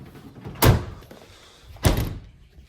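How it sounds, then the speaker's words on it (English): A house door is shut indoors with two solid thuds about a second apart, close and fairly loud, with no talking. "but first we got to close this door."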